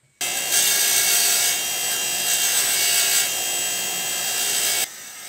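Manifold bolts being cleaned, likely on a power tool such as a wire wheel, give a steady loud whirring and scraping for about four and a half seconds before cutting off.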